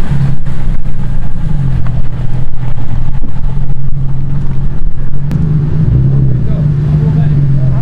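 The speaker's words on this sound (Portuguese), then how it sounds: "Então eu vou filmar ele indo embora, pegar umas imagens do carro dele." A car pulls away from a car meet with a steady, loud engine drone that rises in pitch partway through, while people talk nearby.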